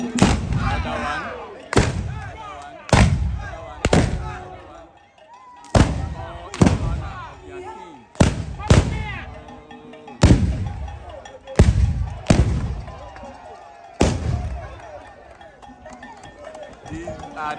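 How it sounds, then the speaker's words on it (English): Royal ceremonial guns fired at a chief's one-week funeral celebration in Asante Mampong, Ghana: about nine loud, booming blasts at irregular intervals of one to two seconds, each with a long rumbling decay, amid crowd noise outdoors. "These are the royal guns being fired once again."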